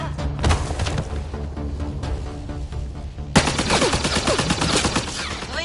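Heavy gunfire in a shooter game, rapid bursts and overlapping shots building into a loud fusillade, with a sharper, denser barrage of impacts erupting partway through; no speech.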